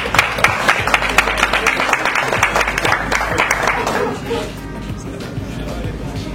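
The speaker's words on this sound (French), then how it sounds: "On applaudit, hein?" Audience applause at the 2022 Les Talents RDC quarter-final: a dense, loud burst of many hands clapping with a crowd murmur, lasting about four seconds before dropping to a quieter room hum.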